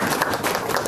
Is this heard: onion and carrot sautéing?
no